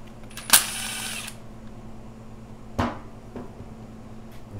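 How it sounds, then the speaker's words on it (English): Screw being removed from a 1994-2007 Kawasaki KX125/KX250 dirt bike engine during a rebuild: a short close buzzing burst of tool noise, then a single sharp click, quiet throughout. "Go ahead and remove this screw here."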